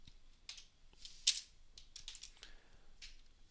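Code being typed on a computer keyboard, a quiet, close run of irregular key clicks with one sharper tap and gaps between strokes, and no voices.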